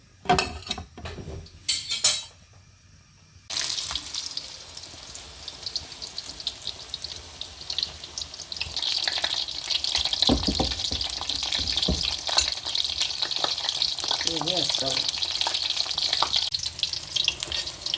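Besan naan sizzles steadily in a pan as its second side fries, with a few utensil clicks at the start, then a continuous close sizzle that grows louder and holds for the rest of the clip.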